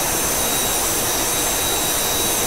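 Jet engine roar from an English Electric Canberra aircraft, a loud, constant broadband rush with a faint high whine, steady and unbroken throughout the short stretch.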